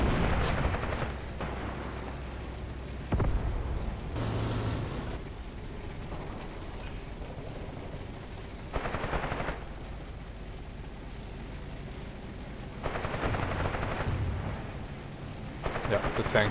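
Rifle shots and machine gun salvos boom in the war game Graviteam Tactics Mius Front. Heavy, distant-sounding bursts recur every few seconds over a rumbling battlefield bed, with someone talking between them.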